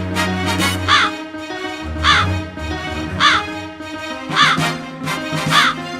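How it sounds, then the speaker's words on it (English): A crow gives a steady series of five loud, harsh caws at roughly one-second intervals, close and clear over a low background drone. "The crow opened her mouth to show off her voice."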